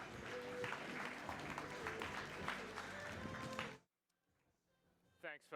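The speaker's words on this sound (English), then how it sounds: "Round of applause, please," A conference audience at Unbound London applauds a panel host, a dense roar of clapping that runs loud for almost four seconds and then cuts off abruptly into quiet room noise.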